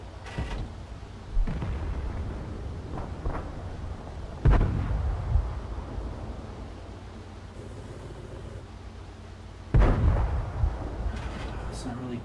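Tank cannon fire in the World of Tanks video game: a few heavy booming shots, about four, land at irregular intervals over a low engine rumble, each with a short ringing decay.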